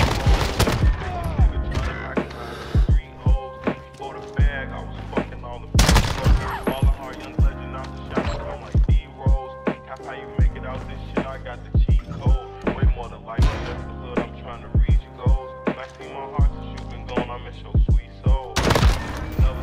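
Shotgun fire in a first-person shooter video game, with repeated sharp blasts in irregular bursts amid other gunfire and game effects, loud and close.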